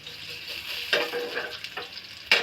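Garlic sizzling in hot oil, a close steady frying hiss broken by a few scraping stirs of a spoon.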